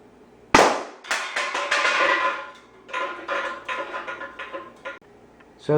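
Nerf Rival rounds fired at nearly 500 FPS smack into four pop cans in quick succession, sharp cracks and tinny clattering bursts near and loud, with a final impact at the end.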